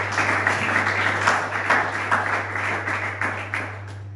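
A church congregation claps and cheers for the Lord, a steady, close wash of applause that holds for several seconds over a low hum.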